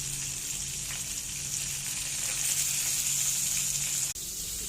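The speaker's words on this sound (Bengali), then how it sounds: "ভেটকি মাছের মাথা ভালো করে ভেজে নিচ্ছি।" Bhetki fish heads rubbed with salt and turmeric frying in hot oil give a continuous bright sizzle close by, with a brief clack near the end.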